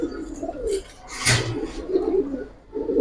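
A male Giribaz pigeon cooing close by, repeated low throaty coos with a brief flutter or rustle in the middle, over a quiet background.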